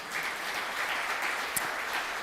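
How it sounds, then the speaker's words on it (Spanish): Congregation applauding inside a church during a sermon, a steady wash of many hands clapping at a moderate, even level throughout, with no voices rising above it. "¿Cuánto le da un aplauso al Señor?"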